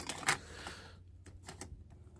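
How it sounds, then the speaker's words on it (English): A cassette tape being slid into a Skoda 120 car radio under repair gives a few quiet plastic clicks and clacks, close and sparse, with one sharper snap early on. "I'll put the tape in position"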